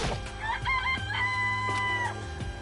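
A chicken in the Danganronpa video game gives a crowing, clucking call with drawn-out, rising and falling tones, loud and close with no talk over it.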